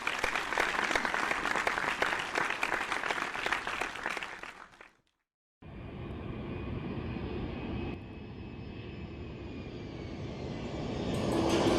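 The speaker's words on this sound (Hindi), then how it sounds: "आपकी भरपूर तालियों में दावत देना चाहूँगा शहजाद" A large audience at a Youm-e-Shuhada memorial program claps steadily, then the applause fades into a moment of silence before a steady roaring drone takes over.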